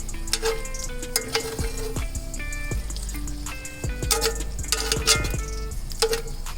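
Steak and potatoes frying in beef tallow on an Old Country Pecos offset smoker, steady crackling sizzle with scattered pops and drips, close and continuous, plus occasional clinks of utensils.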